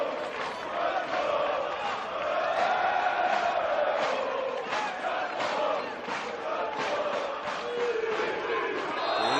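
Sydney United 58 FC fans chant together in a stadium during a NSW NPL elimination final against Marconi Stallions, a loud, rhythmic crowd roar rising and falling with rhythmic claps.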